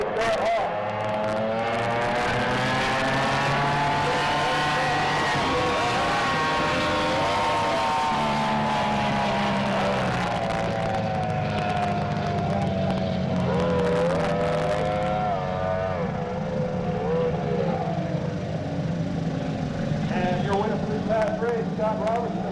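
Racing boats roar across Lake Tholocco at about 95 miles an hour, with loud, continuous engine drones whose pitch rises and falls as they speed past. An announcer talks over the engines.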